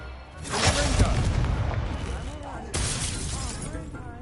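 Fiery spell blasts explode in the Hogwarts Legacy video game, a booming burst near the start and another sharp blast later, with rumbling debris throughout as a voice shouts over the action.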